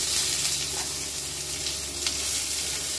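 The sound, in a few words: chopped onion sizzling in hot fish-frying oil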